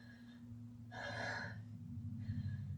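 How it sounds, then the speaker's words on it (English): A person takes a single deep breath, a faint, close rush of air that lasts about half a second, with soft breathy noise before and after over a low background hum. "now take a deep breath"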